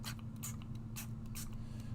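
Several short, hissing bursts from a spray bottle mist onto a succulent terrarium at close range, with brief quiet gaps between squirts over a low steady hum.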